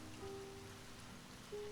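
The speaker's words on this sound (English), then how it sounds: "Outside, the rain picks up slightly, drumming against the eaves, spilling down the gutter in thin rivulets that catch the light from distant street lamps." Rain drumming on eaves and spilling down a gutter outside a cosy Kyoto café at night, a faint, steady wash of patter with a soft low tone drifting underneath.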